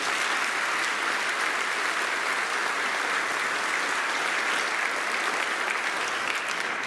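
Steady, dense applause from a large crowd, continuous and fairly loud throughout with no pauses.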